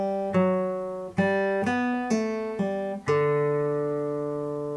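Acoustic guitar plays the intro lick of a song: five or six plucked notes and pull-offs ringing out clearly, the last note sustaining and fading, with no voice.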